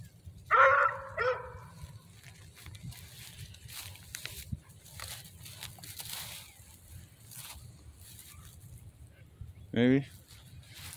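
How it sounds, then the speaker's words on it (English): A cur or English hound lets out a couple of sharp barks at a tree near the start and another near the end, with quiet outdoor background between. "She's barking at an empty tree again?"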